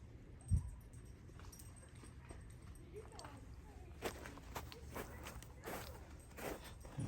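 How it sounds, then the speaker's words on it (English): Footsteps of a person walking a dog through 2 to 3 inches of snow, soft irregular crunching steps at moderate distance with a sharp knock early on and a voice faintly present. "Neighbor walking our dog."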